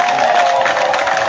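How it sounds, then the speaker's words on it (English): An audience at a political certificate award ceremony claps and cheers, a dense continuous crowd roar with applause filling the short moment. "I want you to stand up and clap for Comrade Kaija Doreen."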